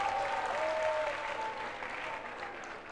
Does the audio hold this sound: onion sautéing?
no